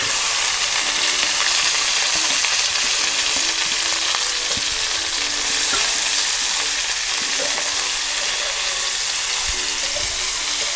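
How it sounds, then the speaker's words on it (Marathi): Okra frying with garlic in a pan on a wood-fired chulha, a loud, steady, dense sizzle running unbroken throughout, with occasional faint stirring knocks beneath it. "तर आपण त्याच्यात भेंडी टाकून घेऊया."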